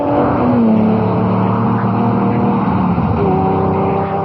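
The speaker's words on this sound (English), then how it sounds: "The car he is driving is a Lamborghini." A Lamborghini Countach drives past up close with a loud, sustained engine tone that shifts pitch as it revs, with no talk over it.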